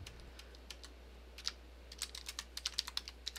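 Typing on a computer keyboard during a chat, a run of soft, quick key clicks that starts sparse and picks up into a steadier patter, faint and close, with no talk.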